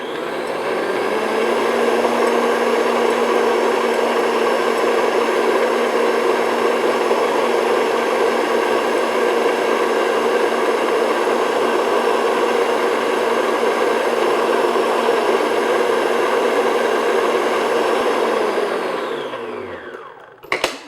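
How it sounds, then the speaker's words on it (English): An electric mixer runs on high speed beating egg whites with sugar, a steady, fairly loud motor whir with a constant pitch that holds for nearly twenty seconds and then winds down and stops. "Have your mixer on high speed, and then what we're going to do is continue to beat until the whites are nice and"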